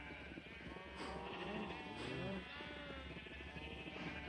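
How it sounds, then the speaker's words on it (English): Blocky Minecraft sheep bleat several times in a row, each call clear and fairly close against a quiet game background, with no talking. "I have 2 green sheep."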